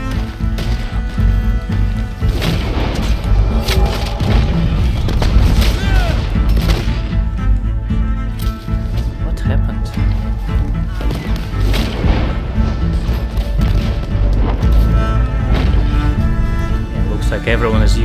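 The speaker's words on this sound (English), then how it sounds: "Like everyone is using now explosive ammo." Explosive ammo detonating in a Red Dead Redemption 2 online firefight: a dense, continuous barrage of loud booms and gunshots with crashing impacts throughout, mixed with game sounds and a voice talking over it.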